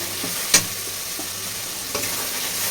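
Potatoes frying in a spiced masala in a pan, a continuous sizzle with occasional scraping stirs and a couple of sharp clinks of the spoon, close up.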